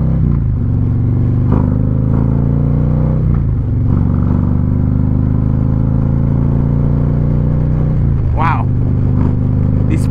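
A Harley-Davidson motorcycle engine rumbles loudly and steadily through its exhaust pipes from up close, a deep continuous throb with slight rises in pitch as the throttle shifts.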